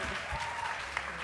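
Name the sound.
audience applause in theatre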